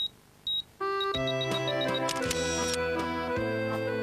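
Camera shutter firing for a family photo, a sharp mechanical click followed by a brief beep, then a bright synthesized startup chord that swells and sustains, no speech.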